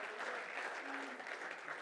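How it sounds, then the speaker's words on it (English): Audience applause at a rugby team's season launch event: a steady, dense wash of clapping from a crowd, continuous and even throughout, heard at moderate distance. "Give yourself a round of applause."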